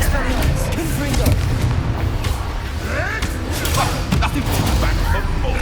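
A Confringo blasting spell explodes during Hogwarts Legacy combat. Heavy booming blasts and thuds sit within a loud, crowded mix of battle noise, and voices call out over it.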